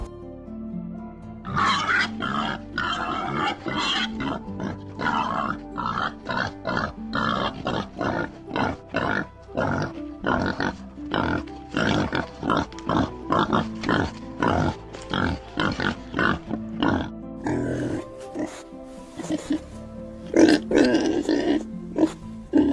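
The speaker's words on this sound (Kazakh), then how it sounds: "Доңыз." A pig grunts and snorts repeatedly in loud, close, rhythmic bursts, a long series of rough oinks with short gaps between them and no talking.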